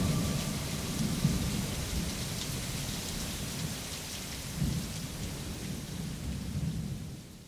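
Steady rain falls with low rumbling thunder rolling underneath in a rainy-season setting, a constant soft hiss with swelling rumbles, no voices.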